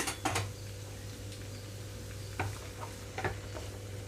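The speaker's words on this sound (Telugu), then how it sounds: "ఆయిల్ హీట్ అయిన తర్వాత కట్ చేసి పెట్టుకున్న ఉల్లిపాయ ముక్కలు వేస్తున్నాను" Chopped onion pieces dropped into hot oil in a pan for Telugu onion chutney, giving a low steady sizzle with a few brief clatters of a utensil stirring, close and fairly quiet.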